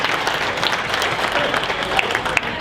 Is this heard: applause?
yes